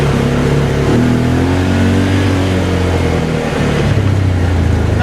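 A brand-new 2023 Argo Magnum XF 500 side-by-side accelerates on a trail, its engine droning loud and close with rising, steady revs and no one speaking.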